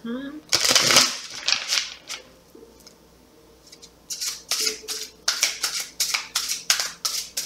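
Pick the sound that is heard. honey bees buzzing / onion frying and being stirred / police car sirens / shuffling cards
shuffling cards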